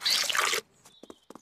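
Cartoon soap poured into a bucket: a short, dense gushing pour that cuts off suddenly, followed by a few small, separate drip-like blips and faint squeaks.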